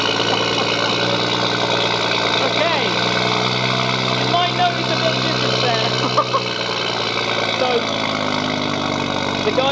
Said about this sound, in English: the guys here have actually played around with the cold start sequence now